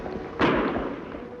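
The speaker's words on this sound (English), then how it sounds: "Shots come from that way, Kemo Sabe." A single sharp gunshot crack rings out in an old Western scene, loud and abrupt, with a short fading tail.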